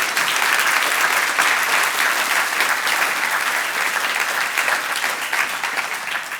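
Loud, dense applause from a conference audience honoring speakers and researchers at a business event, sustained and even throughout with no talking over it.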